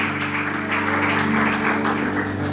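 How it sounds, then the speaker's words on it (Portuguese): In church, a congregation applauds as a steady wash of clapping over a constant low hum from the room's sound system. "Aplauda o Senhor essa noite."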